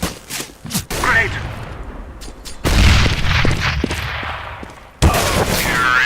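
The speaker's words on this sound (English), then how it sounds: "Grenade." In a Counter-Strike match, a grenade blast and bursts of gunfire ring out as a sharp boom followed by rattling shots, with further loud reports cutting in later, loud and close over game ambience.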